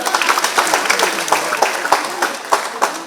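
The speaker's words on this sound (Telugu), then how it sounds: "గట్టిగా చప్పట్లతో." An audience at a state-level Savitribai Phule birth anniversary ceremony breaks into a short burst of brisk, close clapping.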